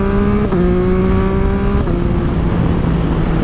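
Car exhaust revving loudly and steadily, with a sustained engine drone whose pitch shifts at a couple of points as the throttle changes, close and alone without talk.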